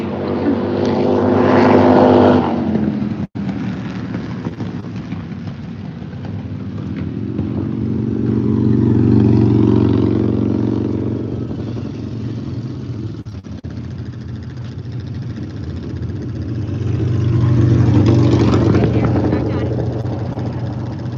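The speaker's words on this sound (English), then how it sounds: "Here comes another bike." A motorbike passes outdoors, its engine drone swelling and fading in two long waves as it approaches and moves off, with people talking nearby over it.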